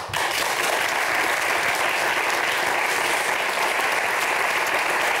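A television talk-show studio audience claps loudly, a dense, even wash of many hands that starts abruptly and holds steady without voices on top.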